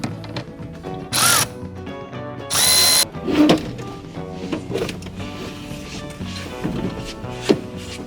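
Power tool driving out seat bolts in an 85 Toyota Cressida, two short loud whirring bursts followed by clanks and rattling of metal parts and tools being handled.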